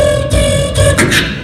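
A beatboxer's voice imitates an alarm clock at a Cape Town comedy club, producing a loud, steady electronic-like tone with rapid pulsing bursts and buzzy breaks near the end.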